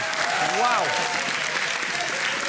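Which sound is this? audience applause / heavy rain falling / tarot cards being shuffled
audience applause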